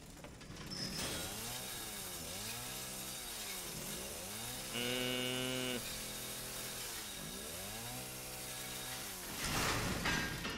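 Chainsaw revving in Resident Evil 7, rising and falling in repeated swells with a brief steady high whine midway, loud and continuous with no talk.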